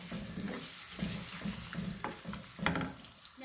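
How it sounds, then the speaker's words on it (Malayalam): Chopped ginger and garlic sautéing in a pan for a fish curry, a steady sizzle of frying under repeated stirring and scraping strokes, with occasional light clinks of a utensil against the pan. "ഇതെല്ലാം കൂടെ ഇട്ട് നമുക്ക് വഴറ്റിയെടുക്കാം."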